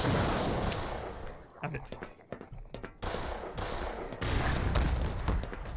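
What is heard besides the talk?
gunfire from a player's gun in the video game Black Mesa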